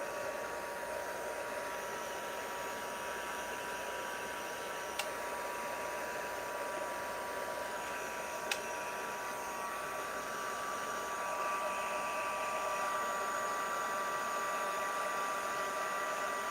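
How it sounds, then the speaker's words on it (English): A new blower dryer runs steadily with an even, airy whirr and faint tonal hum, fairly quiet and unbroken apart from two tiny clicks. "So how is your new blower doing, Juju?"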